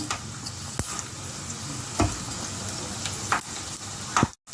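Chana dal and urad dal crackle and sizzle in hot oil with peanuts already in the pan, as a spoon stirs and scrapes at intervals. A sharp clatter sounds just before a sudden brief drop-out.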